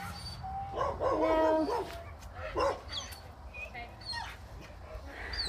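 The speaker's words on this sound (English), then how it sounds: "There's that dog again." A dog at home gives a few short, close yips and whimpers during bath time. The sounds are scattered among background voices and household noise.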